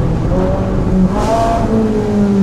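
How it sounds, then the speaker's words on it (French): A loud Ferrari 458 Spider engine drops through gears on downshifts, revs stepping down in pitch with a steady roar and no talking. "Et c'est les downshift aussi, vas-y maintenant."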